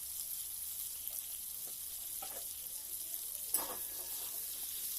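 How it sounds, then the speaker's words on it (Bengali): Potatoes frying in oil in a pan that was just used for frying pointed gourd, giving a steady, soft, close sizzle with a few faint stirring clicks and one sharper scrape near the end, with no voices. "পটল ভাজা হয়ে গেলে ওই তেলের মধ্যে আরও কিছুটা তেল দিয়ে আলুগুলো আমি ভেজে নেব।"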